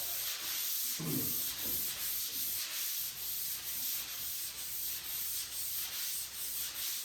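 Steady block sanding on a 1957 Chevy wagon body panel, long rhythmic abrasive strokes rasping back and forth continuously, close and fairly loud with no talking.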